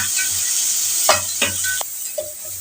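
Tomato and onion sautéing in a pan with a constant bright sizzle, broken by a few spoon scrapes and stirring knocks, close up.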